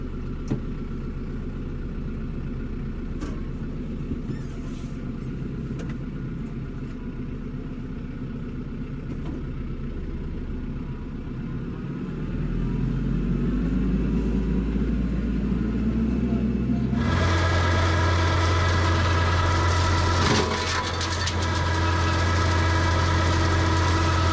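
A riding lawn mower engine runs steadily with its mower deck raised, a low continuous rumble that grows louder and fuller partway through as the engine is throttled up, close by and without talk.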